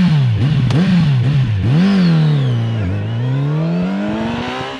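Kawasaki Z900 RS Café (2019) motorcycle engine and exhaust revving up and down repeatedly, rising and falling in pitch with a rough, throaty tone, loud and close with no talk.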